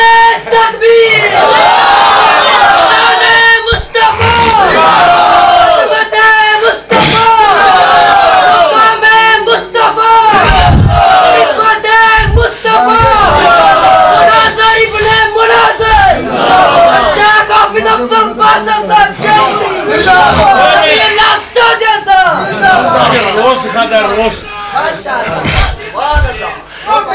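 A large crowd at a religious gathering in Sheikhupura shouts the takbir slogan in loud, rhythmic bursts of massed voices, with a speaker's amplified calls and echoing cheers filling the space.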